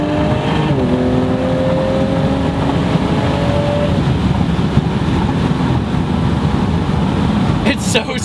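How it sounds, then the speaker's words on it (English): An Audi SQ5 with an APR Stage 2 tune drives along, its engine note rising through the gears with steady road and wind roar, loud and close throughout, and a voice speaking over it. "it's loud, but it's loud to the point to where you're not disturbing the peace"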